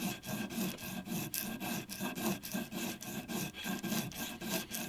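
A traditional Edo-style bamboo fishing rod being shaved by hand with a blade, giving a steady series of rhythmic rasping, scraping strokes about twice a second, close and fairly loud with no voices.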